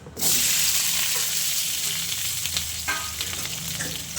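Capsicum and onion frying together in hot oil, a steady close hiss and sizzle that starts abruptly and carries on throughout, with faint scraping of stirring now and then.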